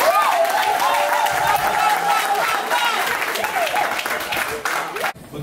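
Congregation applauding during a wedding ceremony, steady clapping from a crowd that fades toward the end, with voices and sung or sustained vocal tones running through it before it cuts off.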